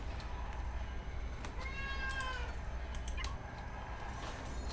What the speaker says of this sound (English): Meow, Messy.